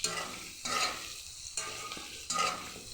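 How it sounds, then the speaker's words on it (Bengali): Potato and eggplant fry with turmeric in a pan, a steady sizzle broken by three scraping stirs spaced about a second apart, up close with no talk. "সামান্য হলুদ দিয়ে দেব, দিয়ে আলু বেগুনটাকে এটার সাথে ভেজে নেব।"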